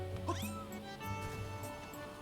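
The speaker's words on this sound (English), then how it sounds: "here's the little kitty cat." A cat meows in the video game The Legend of Zelda: Skyward Sword HD, a short rising-falling cry near the start and fainter mews after it, set over steady game music.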